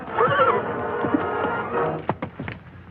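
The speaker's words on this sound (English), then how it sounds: "Here is the war horse Black Cloud, fiery veteran of 100 campaigns, the most famous horse between our coasts." A war horse neighs loudly in a Western setting, one long shrill whinny up front, followed by a few snorts and scattered hoof clops close by, with no talking.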